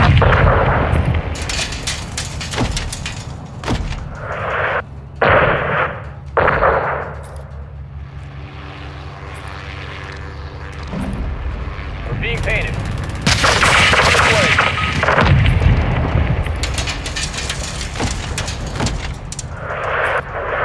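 Incoming missile strike and gunfire in Call of Duty: Modern Warfare II, with loud, dense bursts of rifle and machine-gun fire, booming blasts and a roaring impact rumble mid-clip, continuous and close throughout.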